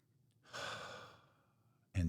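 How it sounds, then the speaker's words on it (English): A single deep breath, a soft drawn-in inhale and a longer audible sigh of release, close and quiet, ending with the start of a voice. "Take a deep breath"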